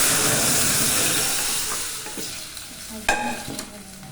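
Spices tempered in hot oil for sambar give a loud, bright crackling sizzle that gradually fades, followed by a few sharp clinks and scrapes of a spoon against the pot, without talking.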